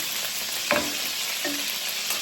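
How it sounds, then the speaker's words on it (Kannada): Corn kernels fry in hot oil in a pan, a close, continuous sizzling hiss. Two or three brief utensil scrapes break through it. "ಕಾರ್ನ್ ಚೆನ್ನಾಗಿ ಫ್ರೈ ಆಗಿಬಿಟ್ಟಿದೆ."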